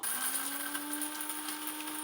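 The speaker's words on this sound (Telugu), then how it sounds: "ఇందాక వేయించుకున్నవి మాత్రం వేసానండి మిక్సీకి" A kitchen mixer grinds roasted coriander seeds, cumin and pepper into powder with a steady, loud motor whine and gritty rattle throughout, nothing else heard.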